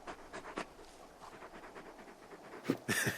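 Torgal, the large wolf-dog companion in Final Fantasy XVI, pants in quick soft bursts after eating, moderately close, with a few louder breathy huffs toward the end and no talk over it.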